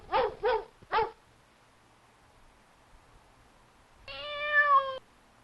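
Dog barking in a video game, three quick barks close together at the start, then silence, then a longer sustained whine or howl near the end.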